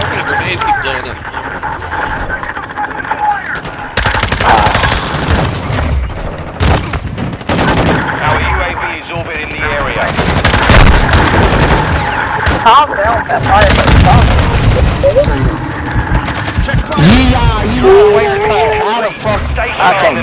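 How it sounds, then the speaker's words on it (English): Grenades explode amid heavy gunfire in a Call of Duty: Modern Warfare II multiplayer match, loud booms and dense rattling shots layered throughout, with voices talking over the battle. "I hope the grenades keep blowing up."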